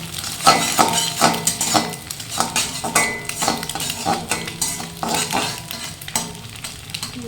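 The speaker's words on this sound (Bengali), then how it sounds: "খুব হালকা ফ্লেমে ভাজবেন, যাতে খুব কড়া না হয়ে যায়।" Eggplant fries gently over a low flame for bhorta while a utensil stirs it, making rhythmic scrapes and light metallic clinks against the pan over a soft, continuous sizzle.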